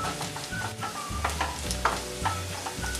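Spiced masala for a Kerala-style beef roast is stirred in a pan: repeated close spoon scrapes and knocks against the metal over a low, steady sizzle of frying oil.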